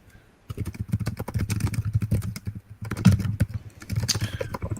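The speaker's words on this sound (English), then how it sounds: "Keyboard typing." Rapid computer keyboard typing is heard close up, with dense irregular clicking of keys that starts after a brief pause and continues in uneven bursts for several seconds.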